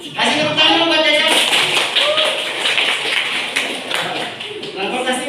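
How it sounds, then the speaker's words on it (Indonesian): Classmates clap for a student in a school classroom, with a brief burst of hand claps between stretches of a teacher speaking before and after. "Kasih tepuk tangan dulu buat Jajang."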